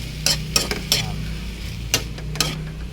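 Pancit canton sautéed with shrimps in a pan over a steady low burner hum, with a few sharp clinks and scrapes of a utensil against the pan and a faint sizzle beneath.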